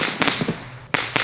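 Fourth of July fireworks bang in sharp, loud, separate reports, a few quick pops close together, then a pause before two more bursts.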